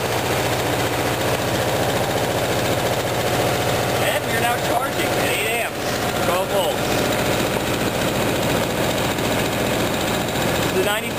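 A syngas-fuelled electric generator engine runs continuously with a loud, steady rumbling drone, and someone talks over the noise throughout.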